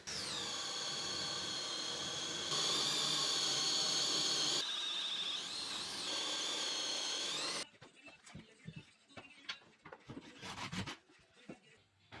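A power drill bores holes during electrical wiring work, its motor whining steadily and loudly for several seconds with shifts in pitch, then stopping, followed by scattered knocks and clatter.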